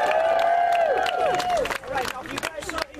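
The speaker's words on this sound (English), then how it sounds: "Can I get a big round of applause for my partner?" A cruise audience in Honolulu applauds a cook who has just prepared Hawaiian pork: a dense wash of clapping and crowd noise, close and loud, with people talking over it.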